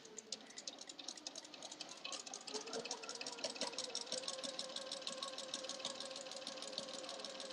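A sewing machine fitted with a walking foot stitches a quilt border, giving a fast, even mechanical chatter that runs continuously at close range.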